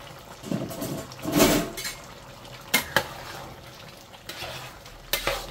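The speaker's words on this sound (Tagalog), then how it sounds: "Kulo na ulit." A covered pot of Filipino home-cooked food seasoned with MSG returns to a boil, with clinks of a ladle on the pot, stirring scrapes and soft bubbling, plus a few sharp metallic knocks.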